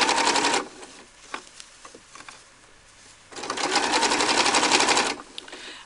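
A serger stitches the seam of a hooded towel, with two fast, loud, mechanical runs of whirring stitching separated by a quieter pause with soft handling noises.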